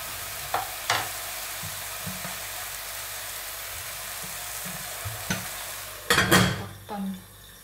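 Tomatoes stir-frying in a pan give a steady sizzle, with a few sharp utensil scrapes and knocks scattered through. A louder burst of stirring and clatter comes near the end.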